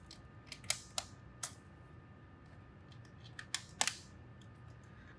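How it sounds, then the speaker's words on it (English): Small screws being set into an HP Pavilion 15 laptop during a RAM upgrade, a handful of sharp metallic clicks spaced irregularly, close and quiet. "Then we'll start placing the six screws."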